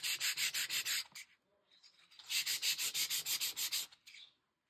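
Dried Crayola paint stick mark being rubbed on a surface, two bursts of quick rhythmic scratchy rubbing strokes, close and fairly faint, separated by a short pause.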